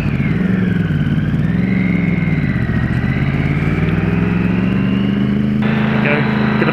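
Triumph Street Triple R motorcycle engine whirring steadily up close, with a smooth, continuous mid-pitched drone that rises and dips slightly as the throttle shifts, loud throughout and alone, with no talk over it.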